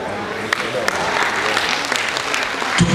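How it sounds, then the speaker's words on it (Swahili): An audience claps for a sheikh at a gathering in Tanzania, a dense, steady burst of applause close by and loud, with a voice speaking over it. "Tupige makofi shehe wetu,"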